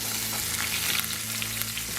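Onions and garlic fry in a cast iron skillet after bacon has cooked on a grill, giving a steady, close sizzle with no talking and a low tonal hum underneath.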